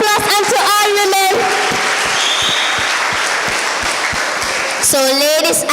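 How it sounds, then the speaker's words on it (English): An audience at a children's podium competition in Gambia breaks into a loud, sustained round of applause, with a voice speaking over it at the start and again at the end. "Can you give them a big round of applause and to all women?"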